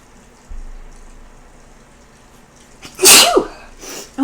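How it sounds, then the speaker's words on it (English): A single sharp human sneeze bursts out loud and close after a stretch of quiet room tone, followed by a brief breathy trailing sound. "I don't know where that sneeze came from"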